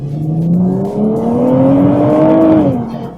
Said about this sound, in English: unlike most turbo engines, this is one that loves to rev